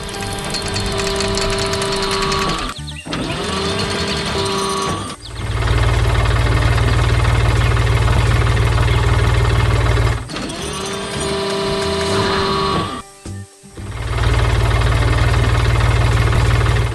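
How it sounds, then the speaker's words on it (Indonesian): Blue tractor engine working on a farm, a loud sustained mechanical drone that cuts out abruptly twice and resumes, with a steady low rumble between the breaks. "melihat traktor biru yang sedang bekerja keras di tengah kebun bunga"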